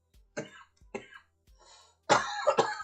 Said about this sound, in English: Those coughs, it's so crazy.